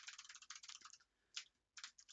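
Keys clatter on a computer keyboard during coding, quiet rapid bursts of typing separated by short pauses, with one isolated keystroke in the middle.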